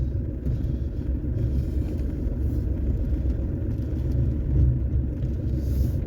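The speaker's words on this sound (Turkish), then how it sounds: "Araba gayet rahat gidiyor gitmeye." Car creeping in first gear along a muddy, snowy road, its engine a low steady rumble from inside the cabin with no one speaking.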